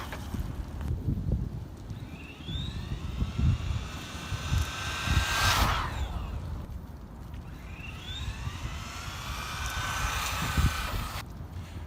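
An RC car fitted with a Tamiya Dynatech 01R motor makes a flyby, its electric whine rising and falling as it rushes past near the middle, over steady outdoor rumble and wind.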